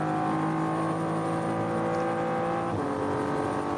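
BMW M3 Touring race car at the Nürburgring during a 24-hour qualifier race, its engine holding a loud, steady high-revving note before a sharp downshift and change in pitch near the end.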